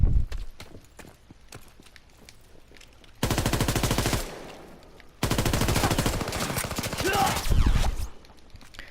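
Automatic gunfire in Call of Duty WWII multiplayer, coming in two long loud bursts of rapid shots separated by a short pause, with scattered softer game noises before them.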